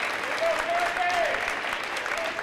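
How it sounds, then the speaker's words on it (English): Chaska home crowd at a high school girls basketball game applauding as former Minnesota Miss Basketball winner Courtney Boylan is recognized, steady sustained clapping filling the gym, with a voice talking over it. "Courtney Boylan being recognized by the Chaska crowd"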